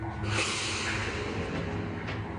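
A man sniffs the air in a basement during a suspected gas leak, heard as a close, breathy inhalation early on with a softer sniff near the end, no talking.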